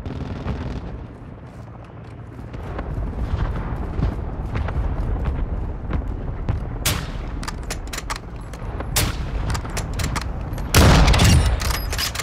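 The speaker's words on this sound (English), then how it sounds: "Hostile Mortar Strike incoming." Mortar strike explosions in Call of Duty: Modern Warfare II, heavy rumbling booms with crackling gunfire bursts and sharp impacts, growing to a loud blast near the end.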